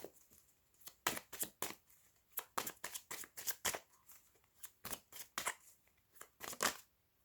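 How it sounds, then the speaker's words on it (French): A deck of cards being reshuffled for a card draw gives quick, close riffling bursts and soft slaps in uneven clusters, fairly quiet and without any talking. "on remélange un petit peu et on fait le tirage"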